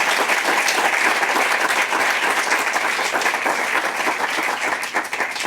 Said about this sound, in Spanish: Lo menos que podemos darles es también convidarles un fuerte aplauso a los organizadores, a Natalie Green